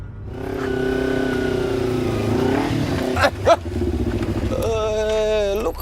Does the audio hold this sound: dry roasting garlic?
no